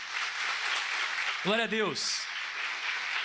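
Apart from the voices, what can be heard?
church congregation applauding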